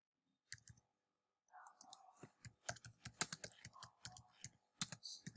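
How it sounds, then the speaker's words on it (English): Rapid clicking keystrokes on a computer keyboard, close and crisp, arriving in irregular bursts after a short pause, with faint mouse-like clicks at the start. "Just I shall type here"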